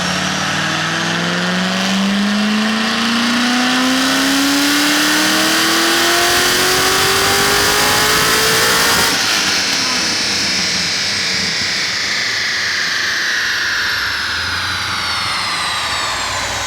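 The engine of a 1,200 whp twin-turbo Corvette Z06 revs hard and loud on a dyno in one long rising pull, then drops away, with turbo whine and a roaring exhaust throughout.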